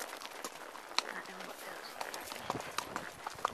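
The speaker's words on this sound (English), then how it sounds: "We're on our ponies. We're riding." Ponies walking on a muddy trail at Fort Lewis, hooves clip-clopping in an uneven rhythm of light knocks beneath steady outdoor noise and occasional voices.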